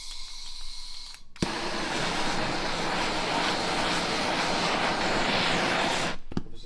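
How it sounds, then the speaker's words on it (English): A blowtorch heating an aluminium suspension arm on a Mitsubishi Lancer Evolution lights with a click and then roars steadily and loudly up close for several seconds before cutting off. "Just quickly get your blowtorch, warm up your aluminium a bit."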